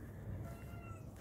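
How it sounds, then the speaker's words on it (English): A cat meows indoors close by, a steady, fairly quiet vocal sound over low background hum with no talking. "there's a cat right here"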